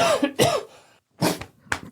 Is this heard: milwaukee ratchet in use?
no